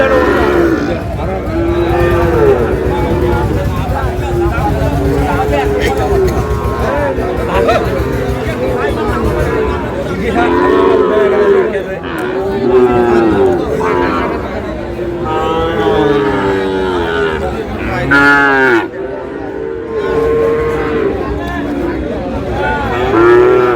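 Sahiwal bull calves moo repeatedly at a crowded cattle market in Dinajpur, loud drawn-out calls from several animals close by, mixed with busy crowd chatter and bargaining voices throughout.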